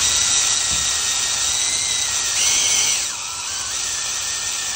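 A DeWalt bit drills into a Kymco Xtown 300 clutch bell, giving a loud, steady high-pitched whine that shifts pitch as it bites, then eases to a lower, quieter hum near the end.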